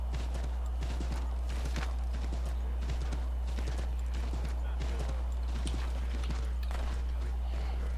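Rapid, continuous hoofbeats of a stolen horse galloping in Assassin's Creed 3, loud and close over a constant low rumble, with talk alongside.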